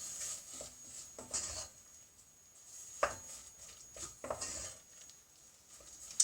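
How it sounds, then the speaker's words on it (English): A utensil stirs venison burger mixture with mushrooms in a pan, giving soft scrapes and a few sharp metallic clinks spread irregularly over quiet moments. "Give that a stir around with the mushrooms."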